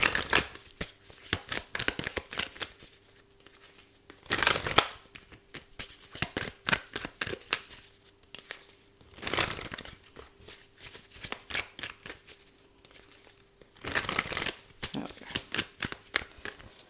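A deck of tarot cards being shuffled up close, with repeated riffling bursts and three louder cascades as the cards bridge and fall together, and no voices.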